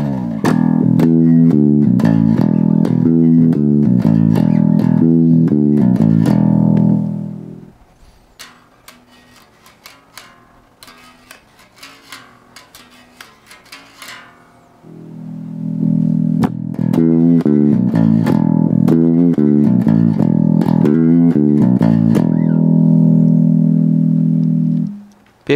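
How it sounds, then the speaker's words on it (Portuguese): Music plays through an Edifier MP233 portable speaker, loud and full for several seconds, drops to a quiet thin background with faint ticks, then returns at full volume with dense, driving rhythm and no voices. "Esse é o som da MP-233 Edifier. É uma caixa de som portátil que eu estou trazendo aqui."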